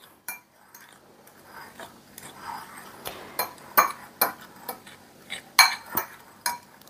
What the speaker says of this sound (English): now I'm just going to take a fork and break these yellows up just a little bit